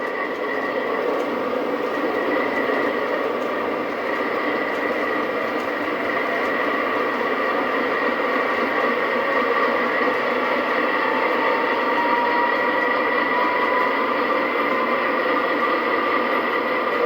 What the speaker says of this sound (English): Let's get our Halloween train running on the main line here.